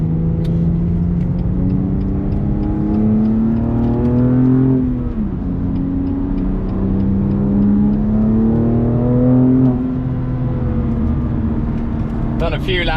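A BMW M2 driven on the Snetterton race circuit with cold tyres. The engine drone is loud and close, climbing in pitch, dropping sharply at a gear change, then climbing again, with a steady rumble throughout.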